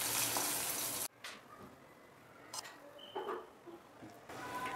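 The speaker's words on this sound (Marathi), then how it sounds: "अशी फोडणी आपण चटणीवर ओतून घेऊया।" Hot spice tempering of mustard seeds, cumin, sesame and curry leaves is poured onto tomato chutney, starting as a loud sizzling hiss that cuts out abruptly and gives way to faint crackles and light scraping.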